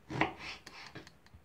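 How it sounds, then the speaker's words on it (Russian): A knife chops peeled eggplant into roughly one-centimetre cubes on a board, a firm first cut followed by several softer, quick taps, close and quiet with no talking. "Баклажаны моем, снимаем с них кожуру и нарезаем на дольки."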